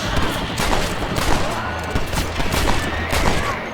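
Rapid, repeated gunshots in a busy volley in the video game Red Dead Redemption, loud and close, with overlapping bursts throughout and no pauses.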